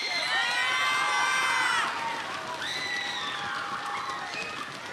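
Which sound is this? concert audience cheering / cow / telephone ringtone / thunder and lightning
concert audience cheering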